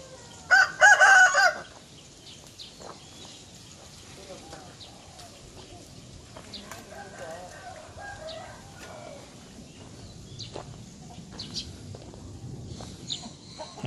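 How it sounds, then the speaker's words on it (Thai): A fighting rooster crows loudly once near the start, a short burst; afterward faint farmyard ambience at a farm by a canal in Bang Khun Thian, Bangkok, with distant clucks and a person talking quietly in Thai. "พ่อพันธุ์ไก่ชน"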